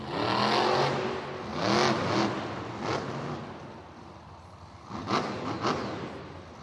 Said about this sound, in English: You heard that engine revving.